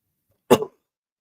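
A single short cough from someone speaking on a stream, close to the microphone and isolated in otherwise near silence.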